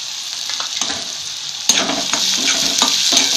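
Onion frying in a pan with turmeric, asafoetida and salt: a loud, steady sizzle, close up, with scraping stirs and spatula taps against the pan and no talk.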